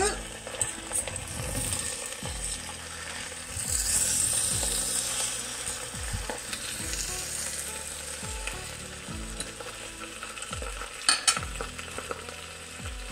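A potato cake sizzles and fries in a cast iron pan while a utensil scrapes under it to loosen it, with repeated rhythmic scraping strokes over a constant close crackle.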